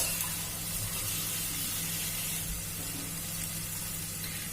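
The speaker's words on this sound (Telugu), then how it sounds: "ఇప్పుడు దీంట్లోకి వాటర్ యాడ్ చేసేస్తున్నాను." Water hisses and sizzles as it is poured into a hot pan, a continuous, fairly quiet rush of splashing and steam.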